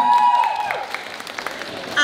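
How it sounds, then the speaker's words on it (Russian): Audience applause for the Roller Coaster dance team at a winter dance championship, a scattered patter of claps from a crowd in a hall that thins out, with an announcer's voice at the start. "Аплодисменты еще раз команде Роллер Костер."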